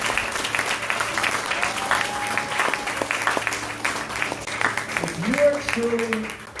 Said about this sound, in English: Huge, big round of applause for the pastor.